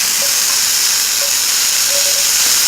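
Apples in warm oil in a skillet on medium-high heat, giving a loud, continuous close hiss and sizzle with faint tonal squeaks now and then.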